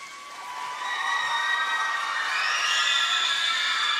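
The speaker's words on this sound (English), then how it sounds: "Clap it up." A festival audience of young writers' families claps and cheers to pick the next poem, a steady wash of crowd noise with whoops rising louder toward the end.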